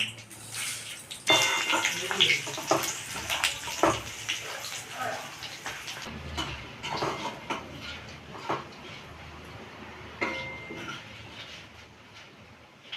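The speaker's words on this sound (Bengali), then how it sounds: "তেলের মধ্যে আমি দেবো গোটা শুকনো লঙ্কা গোটা জিরে আর তেজপাতা" Whole dried red chillies, cumin seeds and bay leaves sizzle in hot oil up close, a steady crackling hiss with a few sharper pops early on that settles into a softer fry.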